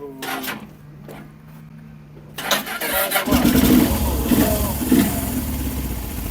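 A motorcycle engine cranked by its electric starter, several clicks and a short whirring crank, then catching into a loud, rough, lumpy idle close by.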